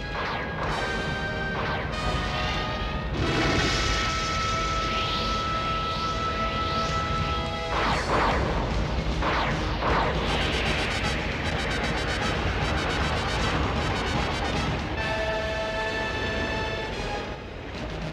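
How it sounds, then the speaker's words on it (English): Foam bombs launched at a blaze in the Thunderbirds 2086 cartoon sound as a continuous loud roar of crashing and whooshing effects, with repeated smashing bursts layered over a dense musical score for the whole stretch. "Get those bombs away. Launching foam bombs."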